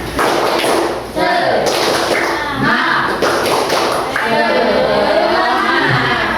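Pupils in a classroom perform a patterned spirit clap, quick rhythmic claps and taps interleaved with loud group chanting.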